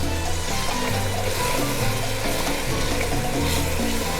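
Diced vegetables sweating with a pinch of salt in a hot pan for arroz con pollo, a steady close sizzle and frying hiss with soft stirring scrapes, no talking.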